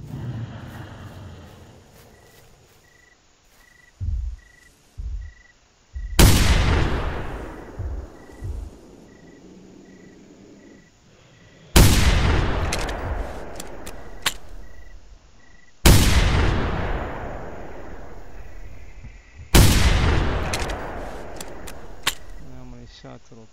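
Four loud, booming .700 rifle shots in the Hunter Primal, each with a long decaying echo, spaced a few seconds apart over quiet ambience, with a couple of smaller thuds early on.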